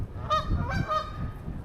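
Several Canada geese honk at a pond, two bursts of harsh, nasal calls close together with a third group after, over steady low wind rumble.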